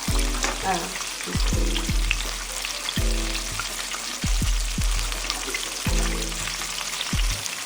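Southwestern eggrolls frying in hot grease give a steady close crackling sizzle, broken by a few low knocks and clunks from the pan.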